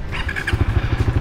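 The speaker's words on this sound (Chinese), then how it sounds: "我轻轻点一下，它就启动了。" A stock Suzuki Raider R150Fi 150cc motorcycle starts with the electric push button: a brief whirring starter whine, then the engine catches into a quick, close, pulsing idle.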